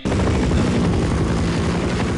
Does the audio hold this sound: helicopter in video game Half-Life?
yes